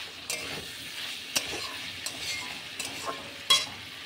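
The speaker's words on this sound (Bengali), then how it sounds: "শুধু তেলে কষা হবে, তবেই পোস্তর টেস্ট হবে।" Vegetables and poppy seed paste are being sautéed in oil, with a low steady sizzle broken by a few sharp spatula scrapes and taps against the pan, close-up with no talking.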